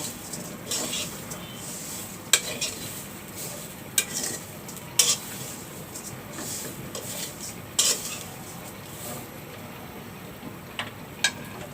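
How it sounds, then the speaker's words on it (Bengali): Cinnamon sticks and a few cardamom pods sautéing in a pan, a soft background sizzle with scattered sharp clinks and scrapes of a spoon against metal at irregular intervals. "একটু কিছু দারচিনি দিয়ে দিচ্ছি দু তিনটে এলাচ দিয়ে দিলাম এখন এটা ভালো করে ঘামায় নেব"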